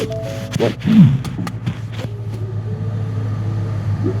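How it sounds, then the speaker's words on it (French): Ford Mustang exhaust in normal mode, idling just after the car was started: a low, steady rumble with a few light taps and clicks over it and a brief voice-like sound early on. "Alors là, on est en mode normal, au niveau échappement."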